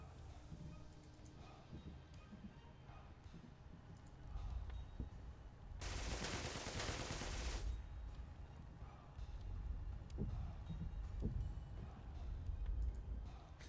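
Tank-battle video game gunfire from the 31st Tank Brigade campaign: a low rumbling backdrop with a loud two-second burst of firing in the middle, followed by further heavy booms and engine rumble.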